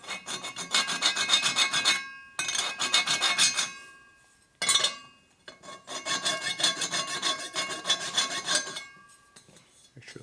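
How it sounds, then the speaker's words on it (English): A dull hand file flattens a metal surface on the top end of a 1983 Harley FXRT 80ci Shovelhead. Close, steady rasping strokes come in long bursts separated by short pauses, with no talking. "Take your dull file."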